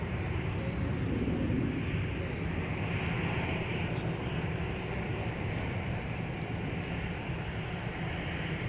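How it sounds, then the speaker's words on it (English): Delta Air Lines Airbus A330-300, an older former Northwest airframe, taking off for Paris Charles de Gaulle at Minneapolis–Saint Paul airport; a steady, loud broadband jet engine roar holds throughout with little change. "This is Delta 152 Heavy off to Paris Charles de Gaulle with the next Northwest A330-300."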